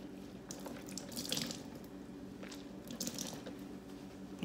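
Tap water runs steadily while products are rinsed out of a lace frontal wig, a continuous splashing flow with occasional louder wet squelches from handling the hair.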